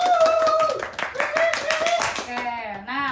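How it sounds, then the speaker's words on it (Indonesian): A small audience of students claps at a school podcast, with several quick bursts of hand claps under talking and tonal voice sounds. "Tepuk tangan dulu dong."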